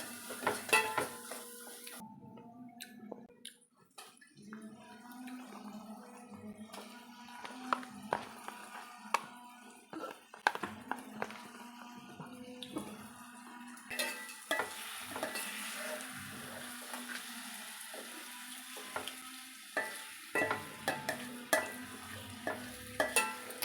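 Fish curry masala being stirred in a pan while it fries, made with small jella fish for a Nellore-style pulusu; a steady sizzle runs under repeated scraping strokes and occasional clinks of the spoon against the pan, with no talking.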